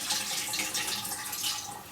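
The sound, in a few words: water running from a tap while rinsing rice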